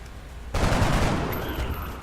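A soldier firing in the tactical video game XCOM Enemy Unknown: one loud, close gunshot burst that cracks in suddenly and then rings off in a long decaying tail.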